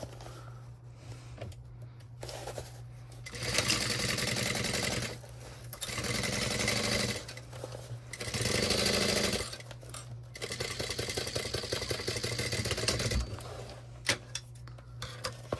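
A sewing machine stitches a messenger bag seam at a 1/8-inch basting allowance in several sustained runs of steady, fast mechanical chatter, separated by brief pauses and ending in a few short ticks, over a constant low hum.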